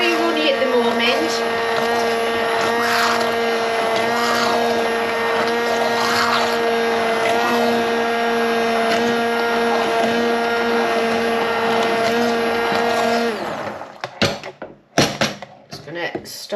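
Hand blender whirring steadily through runny pease pudding, a loud constant motor drone with a stable pitch that cuts off near the end, followed by a few clattering knocks.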